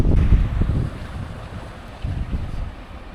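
Steady wind rumbling across the microphone by the sea at the Kourion archaeological site near Limassol, Cyprus, a low continuous whoosh with a few soft gusts and no talking.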